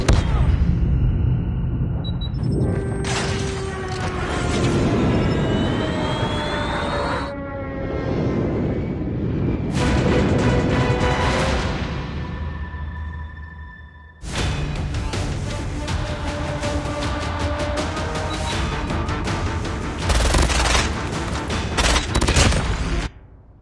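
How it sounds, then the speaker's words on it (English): Airstrike explosions in Call of Duty Mobile, free-for-all multiplayer mode, coming as loud rolling booms and volleys of blasts in several bursts, mixed with gunfire and whooshing sounds, with brief quieter gaps between the barrages. "Enemy airstrike incoming."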